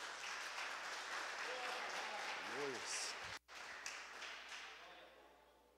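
A church congregation applauds during a Portuguese-language service, with broad sustained clapping mixed with voices and a preacher speaking, briefly cutting out before fading.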